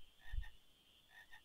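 Frogs croaking in the Final Fantasy IX video game, a short low croak followed by faint higher chirps, quiet with no voices.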